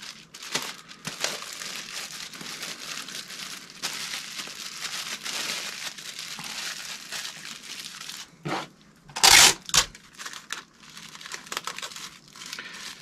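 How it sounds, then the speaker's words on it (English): Plastic bag crinkling and rustling steadily while an order is packed and taped shut, with a brief louder burst of tearing tape near the end. "I'm gonna put that in a plastic bag and then I'm gonna tape it"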